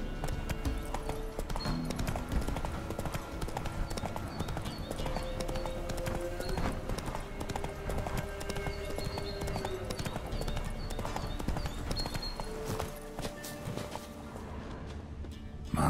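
Roach the horse gallops through The Witcher 3 game world, a steady rhythmic clip-clop of hooves running the whole way under a continuous musical score, close and prominent.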